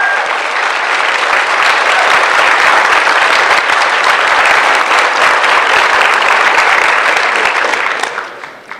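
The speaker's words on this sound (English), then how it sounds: "Give yourself a round of applause." A large rally crowd applauds loudly and continuously, dense clapping mixed with cheers that stays strong for several seconds, then tapers off abruptly at the end.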